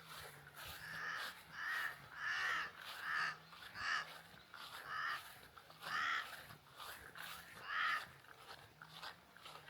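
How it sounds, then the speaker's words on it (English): A crow caws repeatedly in a rural Kenyan village setting with goats nearby, harsh calls coming in a steady series of bursts at moderate distance over soft outdoor background. "Go away, crow."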